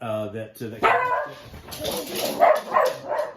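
A dog barks and yips several times in an indoor setting, close and fairly loud, mixed in with someone talking about a fantasy story.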